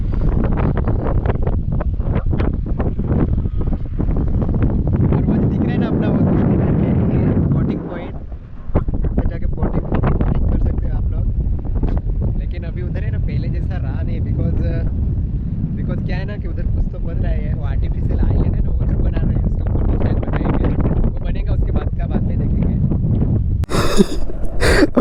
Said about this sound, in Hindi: अब वॉइस अच्छी आ रही होगी क्योंकि बहुत तेज इधर पे हवा चल रही इसलिए।